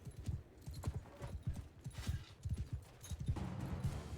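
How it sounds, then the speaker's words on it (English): A starting horse gallops in the medieval video game Mount and Blade: Bannerlord 2, its hooves beating in a quick, steady rhythm of clip-clops at close range, with no talk over it. "my horse is so slow at the moment because it's just a starting horse"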